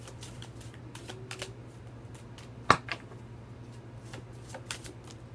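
Tarot cards are shuffled and drawn with a soft, continuous papery riffle and scattered light ticks, broken by one sharp snap near the middle. It is quiet and close, with no talking.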